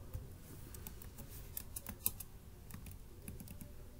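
Java code being typed on a computer keyboard: steady, close clicking keystrokes in an irregular rapid patter with a few sharper key hits, over a quiet room hum.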